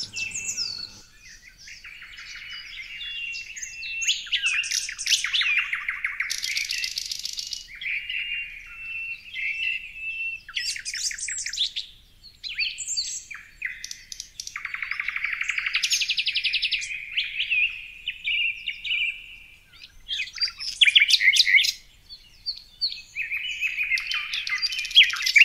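Several birds sing and chirp in a clear, continuous chorus of bright trills, tweets and warbles, with short pauses between phrases and no other sounds beneath.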